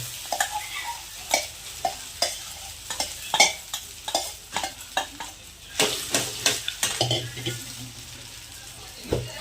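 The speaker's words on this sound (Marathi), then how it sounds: "तर एकदम तेलाचा आवाज येतो बघा किती." Sabudana sizzling in hot oil in a pan, stirred with a utensil that scrapes and clacks against the metal in an irregular rhythm over a steady close frying hiss.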